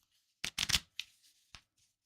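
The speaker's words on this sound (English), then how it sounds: "I'm going to shuffle these once." A deck of playing cards being shuffled once during a live sports-card break, a quick riffle of broadbands bursts followed by a few softer taps as the cards settle, close and alone.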